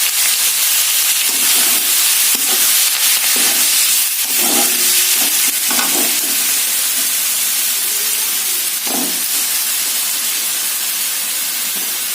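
Grated onions and chili powder frying in hot oil for an Odia village-style chicken kasa, a loud, steady sizzling hiss with a few swelling bursts, close up and with no one speaking.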